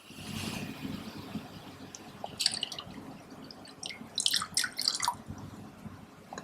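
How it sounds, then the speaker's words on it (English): Brine shrimp water poured into a homemade hatchery, giving soft trickling, splashing and dripping sounds in a few short bursts over a quiet background. "let's pour half of it in."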